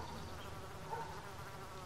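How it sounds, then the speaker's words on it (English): A steady, thin insect whine, a mosquito hovering close by the ear, droning continuously at low volume for a couple of seconds with no speech. "There's a mosquito next to my ear."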